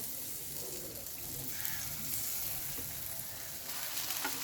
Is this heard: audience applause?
no